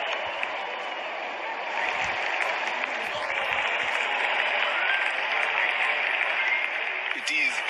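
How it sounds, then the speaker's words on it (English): Cricket crowd at an Australia versus West Indies match roaring and applauding in a dense, sustained wash of cheering, with a commentator's voice speaking over it. "Crowd going mad here."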